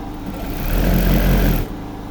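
Sewing machine stitching a jacket collar, a short loud steady motor whir that speeds up for about a second, then drops back to a low hum.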